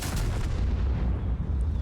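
A heavy tank gun, the Object 268 v4 tank destroyer in World of Tanks, fires with a deep booming blast that rumbles low and decays over a couple of seconds, loud and close with no talk.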